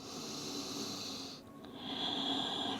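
Slow, deep breaths during a restorative yoga flow, soft and close, a long airy exhale fading out, a brief pause, then another breath drawn in.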